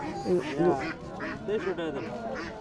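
Domestic ducks quack in a busy, close cluster at a rural market in Bangladesh, with voices talking over the calls in a noisy setting.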